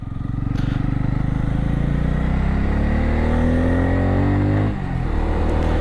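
Bajaj Pulsar N250 motorcycle engine heard while riding, a loud close steady drone that climbs in pitch through the gears before easing off near the end.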